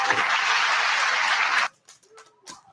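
An audience at a fair booth music game show claps in a burst of steady applause lasting about a second and a half, then stops abruptly, leaving quiet with faint scattered sounds.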